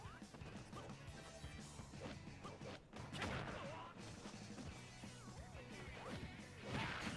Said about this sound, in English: Oh, and Terry, with a well-timed smash attack, smashes Villager out for the second time.